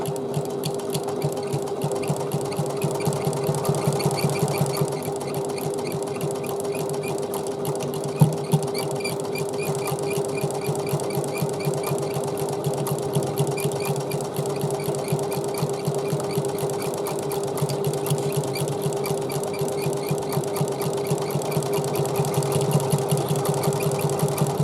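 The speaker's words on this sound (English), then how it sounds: "You'll see me stitching it next." A sewing machine runs steadily while stitching an Emmaline bag at 1/4 inch seam allowance, giving a close, even motor hum with a rapid rhythmic needle clatter that continues almost without pause throughout.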